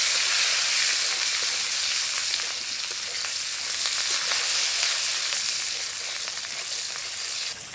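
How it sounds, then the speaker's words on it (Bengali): Black mustard seeds, fenugreek, cut garlic cloves and small onions fry in hot oil left from frying fish, giving a loud, even, continuous sizzle close up with no talk. "মাছ ভাজা তেলের মধ্যেই দিয়ে দেবো কালো সর্ষে, মেথি, রসুনের কোয়াকে আমি পিস করে কেটে নিয়েছি, সেই রসুনের কোয়া"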